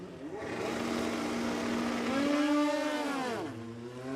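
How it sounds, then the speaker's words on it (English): A Kawasaki nitro drag bike makes a qualifying bye run at Warwick Dragway in Australia, its engine heard faintly from a distance with a rising, then falling pitch. "And the bye run to close out round number 4 of qualifying for drag bike."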